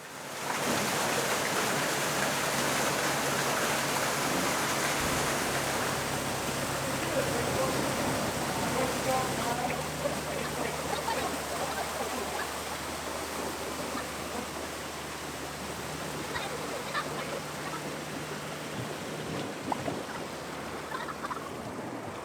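Water rushes steadily into a canal lock in Scotland as a boat waits tied to vertical poles, a broad continuous roar with a low engine-like hum underneath, loud and unbroken throughout.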